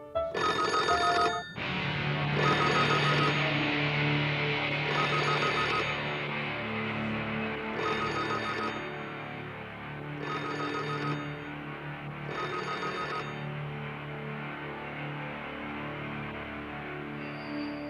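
A telephone rings in repeated bursts, about six evenly spaced double-trill rings separated by short pauses, heard clearly over a quiet background.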